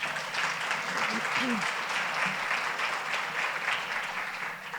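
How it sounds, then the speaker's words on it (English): Audience applause for an event's sponsors, a steady broadband clapping that holds loud and even throughout, with faint voices briefly audible under it. "So let's give them a round of applause."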